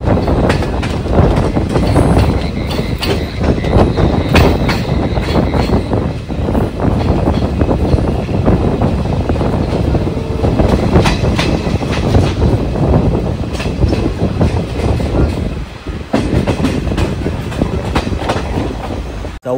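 A train rolling along the Konkan Railway in heavy rain, with a loud continuous rumble and rattling wheel clatter heard from inside, unbroken for about twenty seconds.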